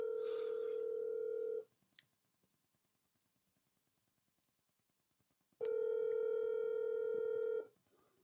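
Steady telephone call tones sound in two separate bursts, each lasting about two seconds, with near silence between them and no talk.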